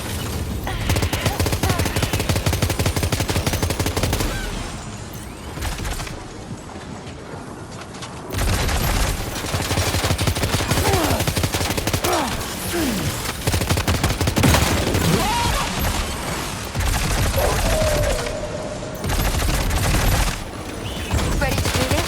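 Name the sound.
gunfire in the video game Death Stranding 2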